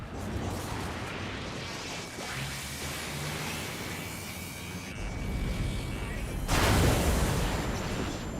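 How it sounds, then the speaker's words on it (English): Railgun fire in the Ace Combat 7 jet game: a continuous roaring, noisy blast bed with a sharp, louder burst surging in near the end, heavy and booming. "Railgun is firing again."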